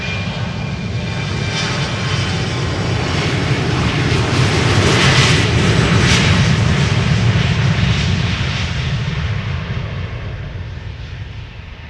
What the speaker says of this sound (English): German Airways, Embraer 190, flying on behalf of KLM, off to Leeds